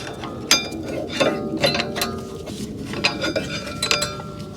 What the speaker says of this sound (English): now we can pull out the old brake pads